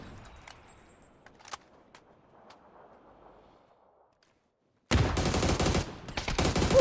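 Rapid bursts of video game gunfire erupt loud and close after a hush, with a few faint sharp shots and clicks scattered through the quieter opening.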